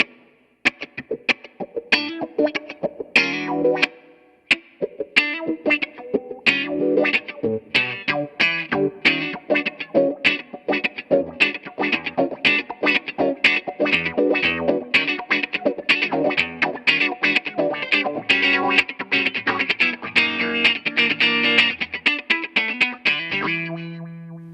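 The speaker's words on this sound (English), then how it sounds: "if you push it real hard, you can use it as a wah pedal" An electric guitar played through the wah expression pedal of a Line 6 POD HD300 produces a busy, distorted run of picked notes and chords with sweeping tonal shifts, loud and steady for over twenty seconds.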